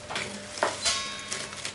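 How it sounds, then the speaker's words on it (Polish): Pancakes frying in a pan in a home kitchen, with soft sizzling and brief clinks of a utensil against the pan, quiet and close with no talk. "Ale smażycie."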